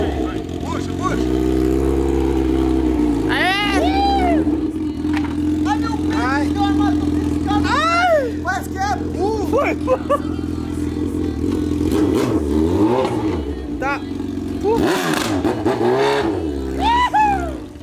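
A Honda CB1000 motorcycle sitting in a swimming pool revs hard and loud, its engine note rising and falling in repeated sweeps throughout, with people talking over it.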